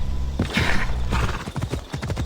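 Horse hooves clip-clop in Assassin's Creed Odyssey, a short run of steady hoofbeats with a brief whinny mixed in, fairly close and loud with no talk over them.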